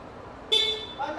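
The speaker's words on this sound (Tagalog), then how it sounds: "Tapos, busina. Sabay busina." Horn of a Yamaha NMAX Turbo Tech Max 155 scooter, heard as a short bright toot that sounds twice, the second shorter and softer, over faint background noise.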